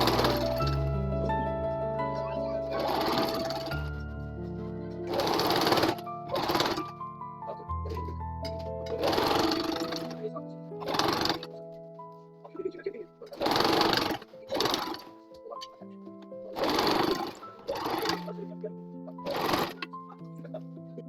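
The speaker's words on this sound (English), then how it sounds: "pin and sew the bottom edge of the bodice to the waistband" A sewing machine stitches an apron bodice to its waistband in repeated short whirring runs separated by pauses, heard over a steady tonal background.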